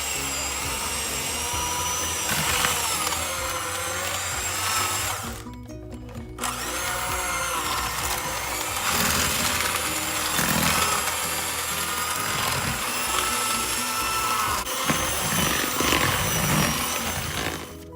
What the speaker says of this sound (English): just give that a mix and start softening that cream cheese up a little bit